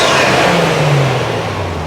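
A Toyota Chaser JZX100 Tourer V Exciting Package with about 50,000 km revs its engine in a steady, loud, close burst, the pitch sliding slowly downward as the revs fall.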